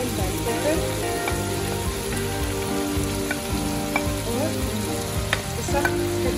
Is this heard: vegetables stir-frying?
yes